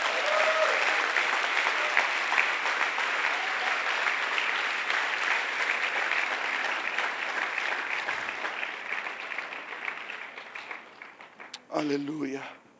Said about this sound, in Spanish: Vamos, denle un aplauso a Jesús.